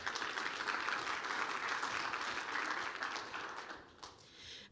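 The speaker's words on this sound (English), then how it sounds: "Can we give him a round of applause?" An audience at an energy-industry panel on the future of the workforce applauds steadily, a dense wash of clapping that holds for a few seconds then tapers off toward the end.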